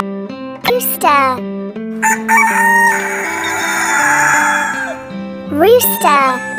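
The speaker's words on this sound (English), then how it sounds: "Rooster." A toy farm animal plays a recorded rooster crowing over background music, two loud crows bracketing a sustained call, close and clear.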